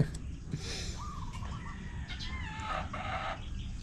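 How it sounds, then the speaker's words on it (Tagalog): Chickens pecking rice cluck and murmur close by, with a rooster-like call rising briefly, over a steady low background rumble. "tumutuka ang kanin ng mga manok"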